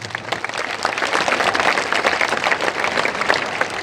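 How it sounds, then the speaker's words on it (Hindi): Crowd applause at a Jan Suraaj rally in Bihar: many people clap together in a dense, steady wash of sound, moderately loud and sustained, with no speech. "ताली बजा दीजिए"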